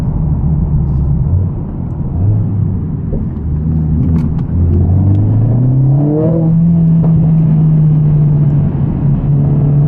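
A Mercedes CLA45 S AMG engine rumbles steadily from inside the cabin, rising in pitch as it accelerates, loud and continuous.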